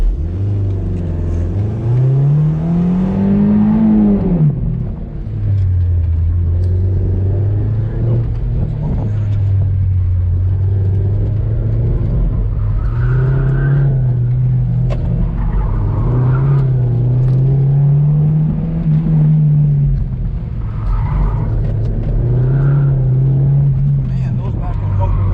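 A Toyota MR2 SW20 running an autocross course at Volcanoes Stadium: a loud, continuous engine drone that swells and dips as the revs climb and fall through the turns, with a voice talking over it throughout.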